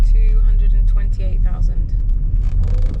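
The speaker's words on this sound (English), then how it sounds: "What car are we in? The Volvo. Volvo what? 940." A classic Volvo 940 with over 240,000 miles rumbles from inside the cabin, a loud and constant low drone while people talk over it.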